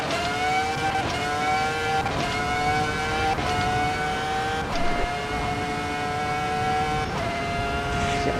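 An F1 car at full throttle around Mount Panorama in Assetto Corsa EVO, its high-pitched engine screaming loud and close through a steady run of quick upshifts, each shift briefly dropping the pitch before it climbs again.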